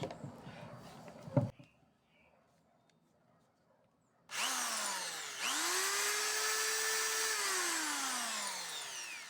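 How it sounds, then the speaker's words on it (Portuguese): A repaired Schulz 110-volt electric drill starts up after a short quiet pause, its motor whining loud and steady, then rising in pitch and running continuously close by with no one talking. "furadeira funcionando"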